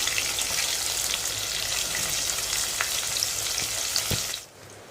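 Onions and two green chilies fry in hot oil with curry leaves, making a loud continuous sizzle and crackle with occasional spatula knocks before the sound drops away near the end.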